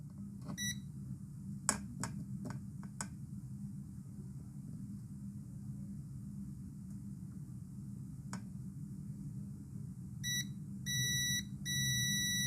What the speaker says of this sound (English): Can you hear the buzzer itself?